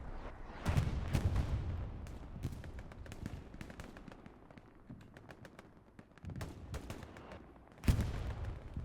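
Gunfire in the WWII shooter Hell Let Loose during a large Stalingrad battle, with scattered cracks and bursts, near and far, some heavier booms, and bird coos in the background ambience.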